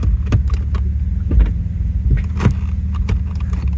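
An off-road vehicle crawls along a rough backroad in four-wheel drive low during an off-road rally, its deep engine rumble punctuated by close rattles, knocks and jolts from the bumpy ground.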